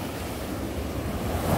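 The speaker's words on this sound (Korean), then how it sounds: "파도가 오늘은 좀 세가지고요." Strong, high ocean waves surge onto Mulchi Beach, a steady loud roar of surf with wind noise buffeting the microphone throughout.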